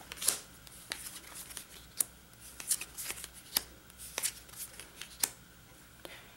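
Cards being handled for the Sylvion card game, a series of crisp papery snaps and flicks as they are dealt into columns, close and fairly quiet, with no voices.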